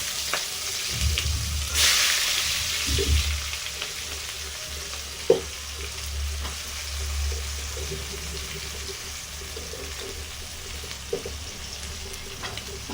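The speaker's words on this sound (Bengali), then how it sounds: "জিরাটা ভাজার পরে আমি একটু অল্প পেঁয়াজটা দিলাম" Sliced onion fries in oil with whole cumin seeds, crackling and sizzling steadily up close, broken by occasional utensil clinks and a sharp knock partway through.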